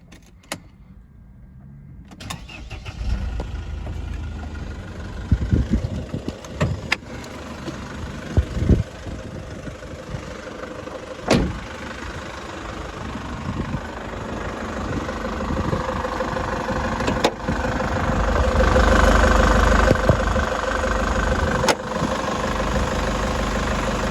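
A Mercedes-Benz W211 engine idling steadily, a low even rumble that lasts throughout, with a few sharp clicks and knocks from the car's body and a broader rush rising near the end; no one speaks.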